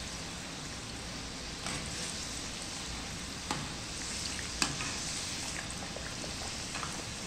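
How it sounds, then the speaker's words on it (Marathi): Coconut and dry-fruit karanji deep-frying in oil over medium heat, a steady dense sizzle and bubbling throughout with a few faint pops and clinks, no talking. "आपण ह्याला दोन्ही बाजूनी छान गोल्डन रंग येईपर्यंत तळून घेणार आहोत"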